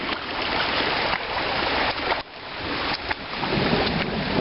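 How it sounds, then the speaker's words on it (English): Storm water pours through and out of a completely full culvert by a road, a steady loud rushing roar with no talk. "the culvert is completely full. It's completely full of water coming through"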